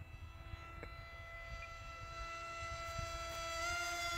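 A radio-controlled model Douglas F4D Skyray comes in to land, its steady engine whine with high tonal harmonics holding over light wind rumble and growing slightly louder as it approaches.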